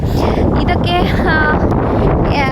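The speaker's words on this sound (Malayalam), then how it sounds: "ഇപ്പം തന്നെ നല്ല കാറ്റുണ്ട് ഇവിടെ." Strong wind roars at a seaside boat yard with boats awaiting repair, a loud, steady gusting rush across the microphone throughout while a person talks over it.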